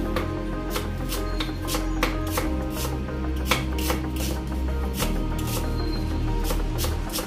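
A knife chops onion on a cutting board for squid adobo, sharp regular taps repeating in a quick steady rhythm, close and clear over a faint background hum.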